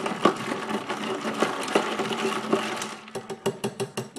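A spoon clinking and scraping around a glass while stirring sugar into hazelnut iced coffee, steady rhythmic rattling that turns into sharper separate taps toward the end.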